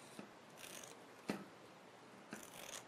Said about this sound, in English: you have to cut desired lengths and also cut the very edge, very thin